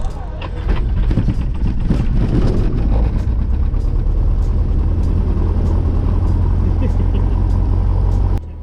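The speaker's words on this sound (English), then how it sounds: "that engine was really struggling to start, but she finally kicked on in" A cold aircraft piston engine, freshly primed, sputters and coughs for a few seconds before catching and settling into a loud, steady roar up close.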